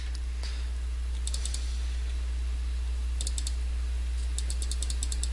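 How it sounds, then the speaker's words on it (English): Rapid bursts of sharp mouse or keyboard clicks during play of the horror game Amnesia, arriving in three quick clusters over a steady low hum, close and fairly crisp. "I'm clicking!"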